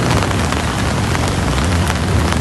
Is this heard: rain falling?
yes